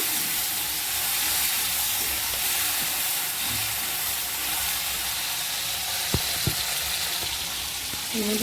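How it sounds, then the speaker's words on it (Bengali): Food fries in very hot oil in a home kitchen, giving a steady close sizzle and hiss throughout, with a couple of faint clinks near the end. "তেল দিয়ে দিয়েছি তেলটা অনেক গরম হয়ে গেছিল বুঝতে পারিনি"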